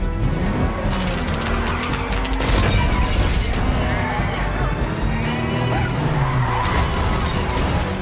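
Movie car chase from No Time to Die (2021): a dense, loud mix of revving engines, tire skids, impacts and a heavy crash-like boom, with layered effects throughout.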